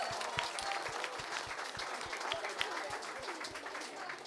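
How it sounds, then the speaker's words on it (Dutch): Audience at a school musical applauds steadily, a dense wash of many hands clapping throughout, with a faint rhythmic low thumping beneath and some indistinct voices mixed in. "En je mag best voor jezelf klappen"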